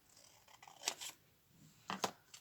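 Scissors cutting paper for a junk journal calendar page, two close pairs of crisp snips about a second apart in a quiet room.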